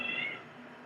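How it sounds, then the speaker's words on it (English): A cat gives one short, faint meow that fades quickly. "Cat."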